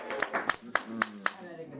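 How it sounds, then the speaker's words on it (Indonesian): Children clap their hands in a quick, slightly ragged rhythm, about five sharp claps at quarter-second spacing, fairly close, with voices talking over and between them. "Tepuk tangan untuk adik-adik gede."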